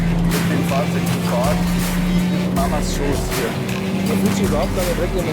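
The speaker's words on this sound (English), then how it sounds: "we have no problems driving at full racetrack speed" Covered prototype of the new BMW M3 Sedan driven at full speed on a racetrack, its engine a steady droning roar heard from inside with someone talking over it.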